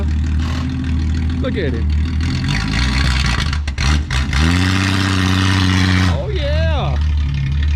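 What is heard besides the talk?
1962 Ford Falcon engine revving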